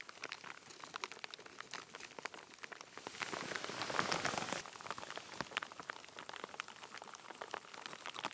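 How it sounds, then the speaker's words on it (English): Pouring rain patters steadily in a forest, dense dripping and pattering on leaves and ground that swells to a heavier rush midway before settling back, fairly faint and with no voices. "It's like pouring rain, but I don't even care."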